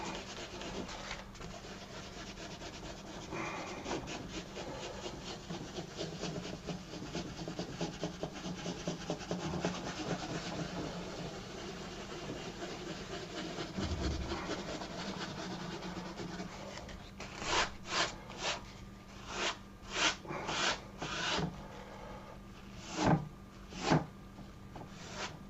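Tissue rubbed in circular motions over an oil painting, a soft close scratchy rubbing that continues quietly, then turns into a series of distinct short brushing strokes toward the end.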